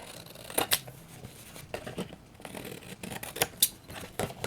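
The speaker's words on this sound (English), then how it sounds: "Let's cut this extra stuff off." Scissors trim excess material from a large handmade art tag, giving several sharp, close snips spaced irregularly, with quiet paper rustling between them.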